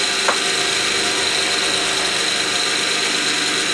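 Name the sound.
Mamod showman's traction engine running, driving Meccano Ferris wheel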